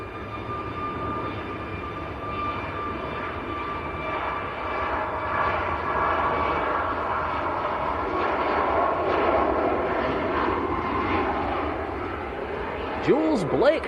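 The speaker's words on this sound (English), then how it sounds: "Ryanair just about to roll on the other side, taking it fairly short, not going full length" A Ryanair jet begins its takeoff roll from Manchester Airport bound for Prague, making a sustained engine roar with whining tones that builds gradually, while a voice talks over it.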